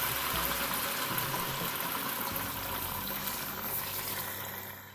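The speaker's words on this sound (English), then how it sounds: "right after 10 minutes you add that boiled water into the" Boiled water is poured into a pot of pilaf with meat and onions, giving a steady close rushing pour and bubbling sizzle that fades near the end, with no talking.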